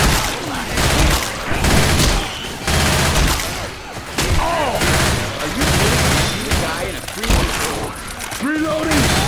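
Rapid bursts of gunfire in the zombie shooter Left 4 Dead 2 during a versus match, loud and repeated in clusters across the whole stretch, with players talking over the shooting.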